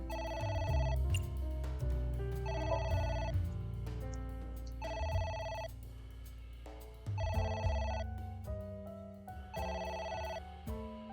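A telephone in the AI: The Somnium Files video game rings in repeated electronic bursts with short gaps between them, mixed with low game music underneath.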